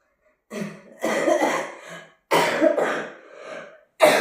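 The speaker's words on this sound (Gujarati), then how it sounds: "વળી પાછી ઉધરસની છક્કી ચાલુ થઈ છે પણ બંધ નથી થતી." A person coughs close by in a fit of four harsh, separate bursts, each lasting roughly half a second to a second, with short silent gaps between them and no talking.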